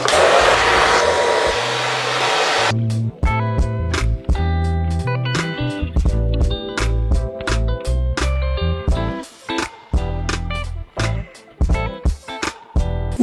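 A hair dryer fitted with a diffuser, used on curly hair, blows with a loud, steady rushing whir for a few seconds, then cuts off abruptly as rhythmic music takes over.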